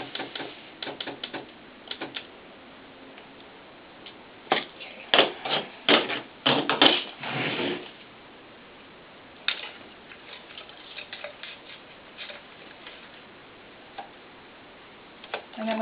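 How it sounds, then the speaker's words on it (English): A home sewing machine running a long straight basting stitch through leotard fabric, heard in several short bursts of rapid mechanical clatter separated by pauses, with a dense run in the middle and quieter isolated ticks toward the end. "now I'm going to straight stitch it with a basting stitch"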